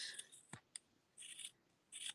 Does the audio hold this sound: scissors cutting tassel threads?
yes